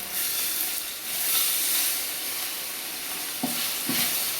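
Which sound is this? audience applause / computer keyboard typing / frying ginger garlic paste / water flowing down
frying ginger garlic paste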